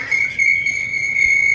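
Crickets chirp late at night in a steady, unbroken high trill, close and clear with no voices over it.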